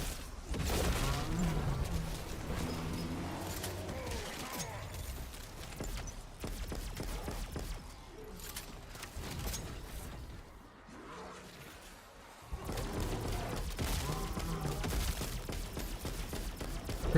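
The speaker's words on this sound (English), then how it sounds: "let's test out this ray gun, see what this has got" Ray gun fire in the Black Ops 7 Zombies video game, a rapid series of sharp zapping shots and impacts in busy bursts with brief lulls, mixed with chaotic game effects.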